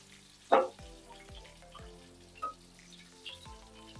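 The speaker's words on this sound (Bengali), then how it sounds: "দেখুন কি সুন্দর ভাজাটা হচ্ছে।" Rui fish frying in a pan over low heat gives a steady soft sizzle, with a few louder clinks or taps from a utensil rising above it.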